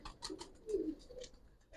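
A Giribaz (Palla line) pigeon coos softly in a few low, rounded calls, with faint higher chirps over a quiet background.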